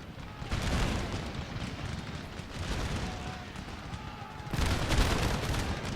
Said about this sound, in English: Oh my word, that is a barrage you don't get over.